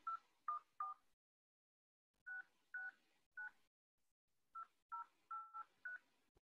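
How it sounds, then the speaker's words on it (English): A personal cell phone dials a number: a dozen distinct touch-tone beeps in three quick groups separated by pauses, clean and close against near silence. "and I'll dial the number"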